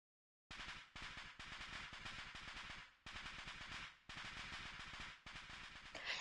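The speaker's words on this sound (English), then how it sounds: "a sound like firecrackers resound from the other side of the door" Rapid, crackling bursts like firecrackers from a dust explosion behind a closed door in the Steins;Gate video game, loud and dense in several long volleys with brief gaps between them.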